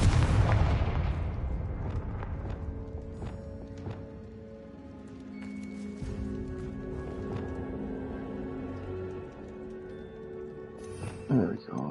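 In a Wizarding World video game, a Confringo spell bursts with a loud explosive boom at the start, then fades into a lingering rumble with scattered clattering debris, while a person talks over the game sounds.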